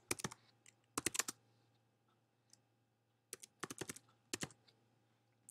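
Quick bursts of typing on a computer keyboard, entering a search term into a website's search field, with short clusters of clicky keystrokes separated by pauses in a quiet room.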